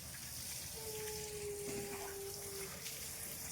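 A mug pours water over a person in a steady, continuous splashing rush that stays at an even level throughout, with a faint tone running underneath.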